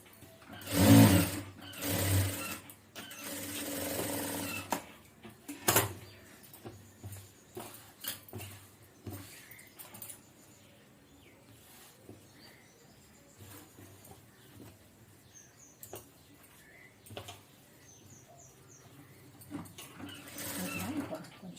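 A sewing machine stitches a blouse in short runs, its rapid mechanical whir starting and stopping several times with quiet pauses between.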